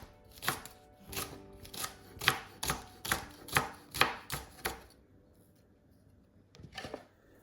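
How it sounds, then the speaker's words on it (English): Spring onions, an onion and red and orange peppers are roughly chopped with a knife on a board, about a dozen crisp strikes in a fairly steady rhythm before the chopping stops. "I've got spring onions, I've got an onion, I've got a red and orange pepper, and I'm going to chop all of this just roughly."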